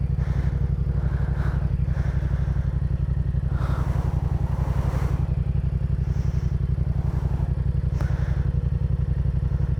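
A motorcycle held up on its back wheel in a wheelie gives a steady, loud, close engine drone, with faint thumps and clatter over the top.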